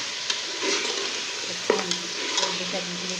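Mutton pieces sizzle and fry in a pot with whole cardamom, cinnamon and cumin for deghi aloo gosht, a steady close crackle broken by scraping stirs and a few light clinks of a spoon against metal.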